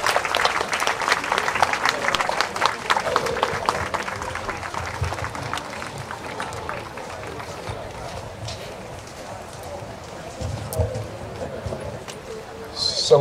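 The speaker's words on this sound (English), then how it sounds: "Let's give them a round of applause as they're coming forward" An audience applauds at a discussion session as school children come forward, with dense clapping that is loudest at the start and slowly thins, plus shuffling and murmuring underneath.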